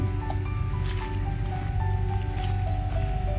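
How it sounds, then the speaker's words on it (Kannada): Water shoots upward from a diversion pipe at a lift irrigation scheme in Udupi, making a loud, continuous rushing gurgle with splashing and dripping throughout, and no speech. "ಇಲ್ಲಿ ಪೈಪಲ್ಲಿ ಮೇಲ್ಮುಖವಾಗಿದ್ದು ಚಿಮ್ತದೆ ಒಂದು ರೀತಿಯ ಕಾರಂಜಿ ಟೈಪಲ್ಲಿ ಈ ನೀರು ಚಿಮ್ತದೆ"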